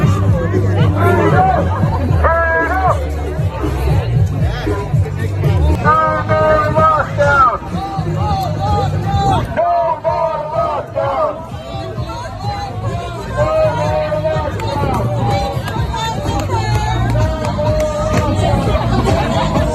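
Loud crowd at an anti-lockdown protest in Toronto, a dense continuous hubbub of many overlapping voices, shouting and chatter filling the whole stretch without pause.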